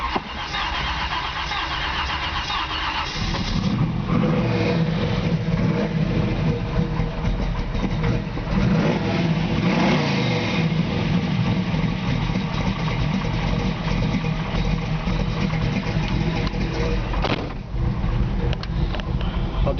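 A 1972 Camaro Z28 with a 383 stroker V8 and high-flow carburetor runs loud and close, its deep rumble swelling through repeated revs for about twenty seconds, with no talking.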